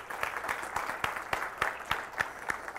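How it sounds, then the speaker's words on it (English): A conference keynote audience applauds a military veteran with sparse, distinct claps spread through a room, rather faint and steady, with no voices over them. "Give them a round of applause right now."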